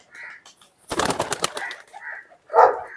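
Shajapuri blue pigeons give soft cooing calls and a burst of wing flapping near the microphone, with short coos at the start and a louder close call near the end.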